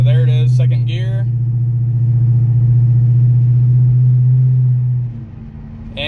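A Dodge Magnum R/T with an SRT rear end installed cruises in second gear, its engine a loud, steady low drone that holds for several seconds before easing off; a voice briefly talks over the start.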